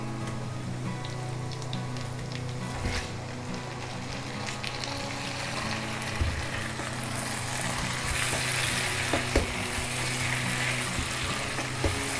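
Mutton frying with chopped onion in a pan, a constant dense sizzle that swells louder as the meat goes in, with occasional stirring clatter.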